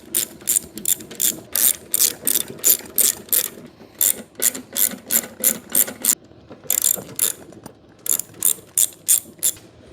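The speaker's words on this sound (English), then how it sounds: "We're going to take the 2 bolts out of there and the 2 bolts out right there." A hand ratchet loosens the oil pan bolts on a Ford 351W V8, giving rapid, crisp clicking runs in short regular bursts with brief pauses between strokes, close up and alone.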